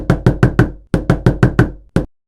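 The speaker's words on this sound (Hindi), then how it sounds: "किसी ने द्वार खटखटाया।" Knocking on a wooden door: two quick bursts of four sharp raps each, then a single final knock, close and loud with no other sound.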